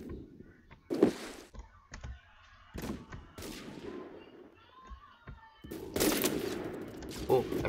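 Gunfire in the first-person shooter Phantom Forces comes as several sharp bursts and bangs, some close and loud, others lighter, spaced irregularly with a heavy cluster near the end.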